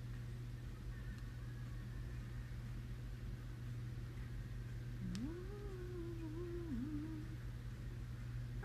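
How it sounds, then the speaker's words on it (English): A cat lets out one drawn-out, wavering meow, close and moderately loud, over a steady low electrical hum indoors. "This crazy cat."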